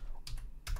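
A computer keyboard gives two quick, faint clusters of close key clicks while someone types a Linux command.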